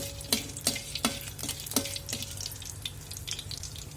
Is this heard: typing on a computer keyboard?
no